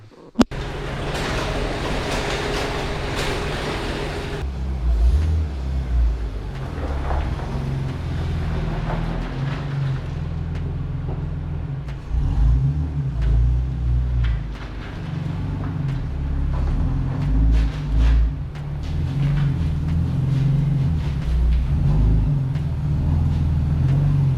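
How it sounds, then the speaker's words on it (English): A BMW car engine runs steadily up close for a long stretch, rumbling low as the car creeps slowly forward into a garage. "I'm gonna bring the BMW in"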